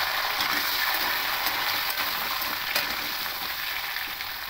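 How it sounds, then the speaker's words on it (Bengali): Cut potatoes drop into hot oil left from frying fish-roe fritters, filling the space with a loud, dense, continuous sizzle and faint bubbling crackle close by, without any speech. "এবার এই তেলের মধ্যে কেটে রাখা আলুগুলো দিয়ে দেব।"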